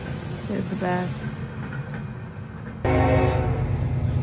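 A manifest freight train rolls past at Folkston, Georgia, a steady rumble of rail cars with a horn blast partway through and a louder, brighter surge near the end, fairly close.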